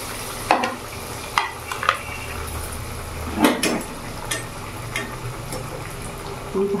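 Hot oil sizzles steadily in a pan over a medium gas flame as pieces are dropped in one at a time, with sharp clinks and splashy spikes breaking through the constant frying hiss.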